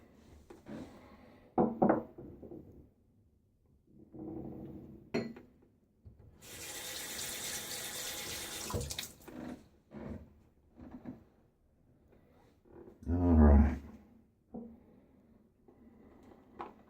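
A tap runs into a sink during a wet shave, a steady rush of water for a few seconds between quieter handling sounds, clinks and a short splash.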